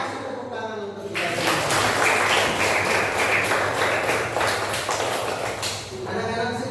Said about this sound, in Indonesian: Kasih tepuk tangan untuk kita.